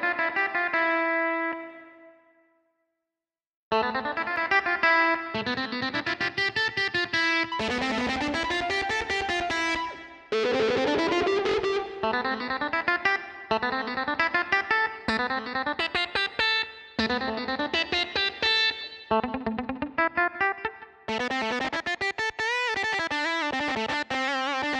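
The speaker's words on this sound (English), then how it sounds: "let us go to guitar sounds" An electric guitar is played through effects such as distortion, chorus and echo. A clean chord rings out and fades, then a long stretch of loud, distorted melodic phrases and bends follows, with no talk.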